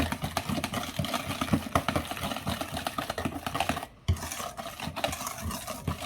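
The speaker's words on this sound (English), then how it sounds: "And we're gonna mix this in." Sugar being stirred into a mixture for lamb chop tacos, a dense, steady run of quick scraping and clicking strokes with one brief pause before the stirring resumes.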